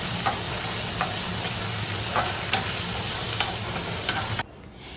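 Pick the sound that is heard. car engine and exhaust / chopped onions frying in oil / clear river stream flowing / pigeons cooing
chopped onions frying in oil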